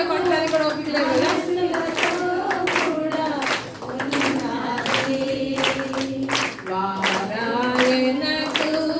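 A congregation at a Telugu church sermon claps in rhythm while a voice sings or speaks over the hands, with scattered voices and children's chatter blending into the steady, moderately loud clapping.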